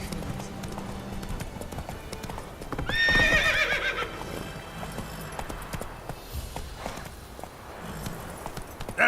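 Roach, a horse in The Witcher 3, clip-clops along at a steady pace, with a loud whinny rising briefly in the middle before the hoofbeats continue under faint ambient game sound.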